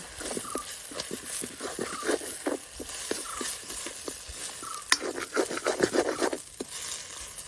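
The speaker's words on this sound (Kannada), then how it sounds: "ಒಂದು ನಿಮಿಷ ಆಯ್ತು ಮೊಟ್ಟೆ ಹಾಕಿ ಮಿಕ್ಸ್ ಮಾಡುವ" Eggs stirred into a mixture in a pan make a rapid run of soft scraping taps and pats from the spoon, close and steady for several seconds.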